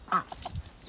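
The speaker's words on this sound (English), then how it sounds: "This is a silky, and he is a rooster." A few short soft clucks from a Silkie rooster, quick and close, in a brief burst.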